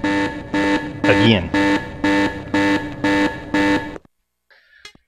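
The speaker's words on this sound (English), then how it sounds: "He's went running to set off the alarm." Repeating alarm from Hitman: Silent Assassin, a loud buzzing tone pulsing in about eight even bursts, then cutting off; a voice speaks briefly after.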